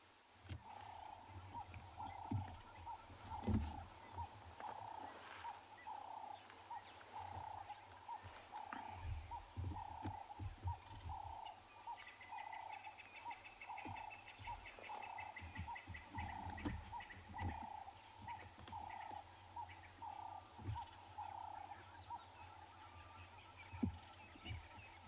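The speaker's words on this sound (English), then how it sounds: "The main sounds we can hear are always the Cape turtle doves this time of the day." Cape turtle doves calling at sunrise in the African bush, faint repeated cooing phrases carrying through a quiet, distant dawn soundscape with low hum and scattered other wildlife.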